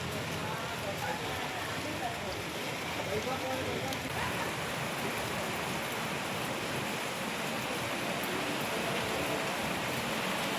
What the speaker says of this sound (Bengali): বিদ্যুৎ চমকাচ্ছে আর ঝমঝমিয়ে বৃষ্টি পড়ছে।